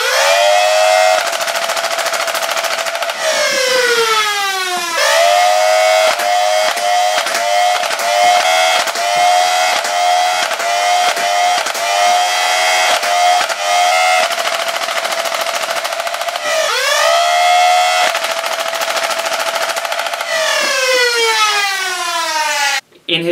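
A full-auto modded Nerf Stryfe blaster firing foam darts: close, loud, rapid mechanical bursts over a motor whine that spools up and winds down repeatedly between volleys.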